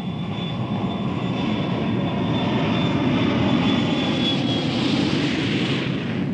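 A large aircraft pulls out of a near-vertical dive close to the speed of sound, giving a steady, loud engine roar with a thin high whine that holds throughout.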